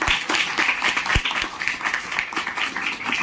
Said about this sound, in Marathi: जोरदार परत एकदा टाळ्या वाजवा